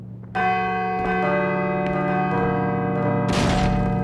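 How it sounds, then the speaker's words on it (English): A deep bell in Call of Cthulhu: Dark Corners of the Earth rings out with long, resonant tones that hang and overlap, followed by a burst of noisy crashing near the end. "I should let the bell finish ringing first."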